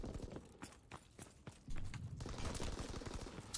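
Shotgun blasts in a first-person shooter video game, a string of loud, sharp shots that cluster and overlap with faint footstep-like clatter, with no voices over them.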